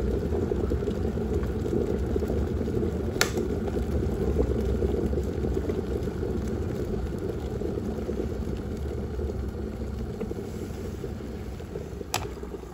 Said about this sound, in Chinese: 我们再来烧一壶热水，把它烧开，烧至沸腾的状态